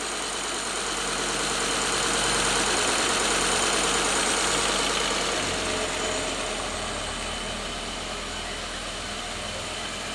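A Fiat Marea engine idles roughly with its sensor disconnected, a loud, continuous uneven running sound with a slight swell in the middle, heard close up in a workshop with no talking.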